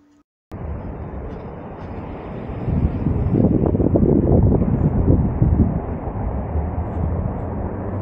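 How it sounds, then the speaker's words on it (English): Wind buffets a camera microphone strapped to a chest under a homemade invisible mount, a steady low rumble that swells louder and gustier midway before easing back, with no voices. "There's a nice wind blowing around."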